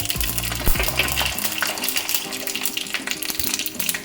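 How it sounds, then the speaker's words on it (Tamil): Mustard seeds splutter in hot oil with urad dal, chana dal and two dried red chillies for a South Indian buttermilk curry, a busy close crackle and popping over steady frying, with a low droning hum at the start. "கடுகு நல்லா பொரியும் போது நம்ம உளுத்தம்பருப்பு, கடலைப்பருப்பு போட்டு 2 காஞ்ச மிளகா வச்சுருக்கோம்."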